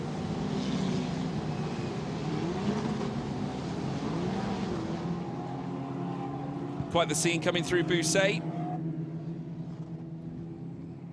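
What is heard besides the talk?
Formula Regional race cars driving through spray on track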